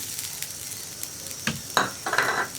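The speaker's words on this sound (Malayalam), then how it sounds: "ഇതിലേക്ക് നമുക്ക് ആദ്യം നമ്മുടെ തേങ്ങയും ഇഞ്ചിയും ചേർത്ത് കൊടുക്കാം." Grated coconut and ginger hit a hot pan for egg curry, giving a soft crackling sizzle that grows louder and denser toward the end, with a few scraping stirs up close and no voices.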